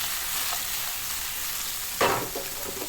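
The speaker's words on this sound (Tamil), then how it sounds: "இப்போ பாருங்கள், லேசாக ஃப்ரை ஆகிடுது." Mushrooms frying in a pan, a steady hiss of sizzling with a sharp burst around the middle as they are stirred and tossed.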